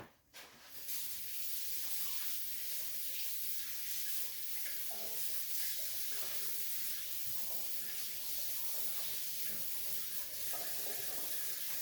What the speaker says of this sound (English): I do need to wash my hands though.